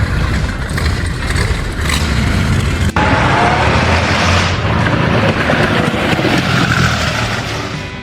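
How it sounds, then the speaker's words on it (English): Brutus, a car powered by an exposed V12 aircraft engine, roars loud and close with a sharp, aggressive tone; the engine revs and clatters continuously, swelling at about three seconds and then holding a heavy drone. "The sound is deafening, sharp, and aggressive, just like an old aircraft engine running at full power."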